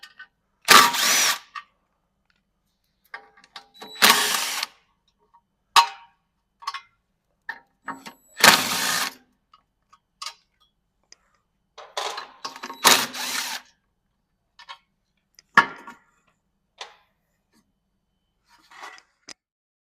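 Power tool removing caliper bracket bolts during a suspension install on a Toyota AE86, heard as short, loud bursts of whirring and rattling separated by quiet gaps, with small clanks and clicks of tools between them.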